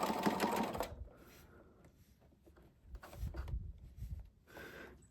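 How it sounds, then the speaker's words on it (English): Sewing machine running a straight stitch on a small piece, a short burst of rapid mechanical stitching up front, then quieter intermittent clicks and handling sounds, fairly faint overall. "we are going to just do a straight stitch on this because it is so small"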